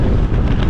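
Headwind buffeting the microphone outdoors, a loud, continuous low roaring rumble with no talk, filling the whole brief moment.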